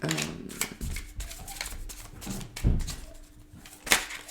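Tarot cards shuffled and laid down on a table during a card reading, a series of soft papery slides and light taps spaced irregularly, close and fairly quiet, with no talking.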